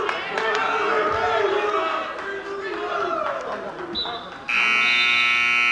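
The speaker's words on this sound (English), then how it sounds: "there's the buzzer for the end of the first period" A loud, sustained electronic buzzer sounds at a high school varsity wrestling match against Deptford to end the first period, cutting in abruptly near the end over steady crowd chatter and an announcer's voice.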